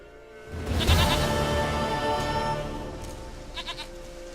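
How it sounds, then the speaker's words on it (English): A goat in The Witcher 3 gives a single drawn-out bleat, close and clear, trailing off over game ambience. "Goat of mine, dearest, sweetest goat."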